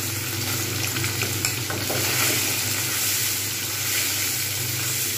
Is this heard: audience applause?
no